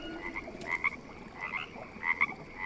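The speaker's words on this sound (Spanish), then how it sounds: "mira, una rana" Several short, hoarse croaks from a frog in the jungle survival game Green Hell, spaced irregularly over quiet ambient background, moderately near and clear.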